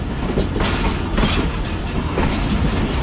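The Pak Business Express rumbles along the line between Bahawalpur and Karachi, heard from inside as a steady loud roar of wheels and carriage with faint rhythmic clatter.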